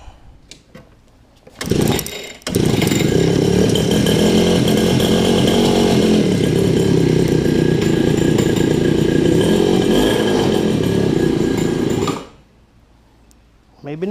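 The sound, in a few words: cat-eye super pocket bike engine starting and running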